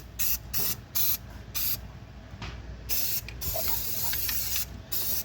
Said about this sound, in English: So we're gonna spray everything down with Surface Shield Blaster.